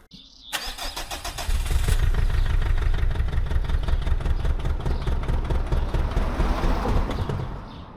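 A Renault Clio engine, its injectors just tightened, cranks briefly, then catches and settles into a loud, steady running rumble close by, with no speech.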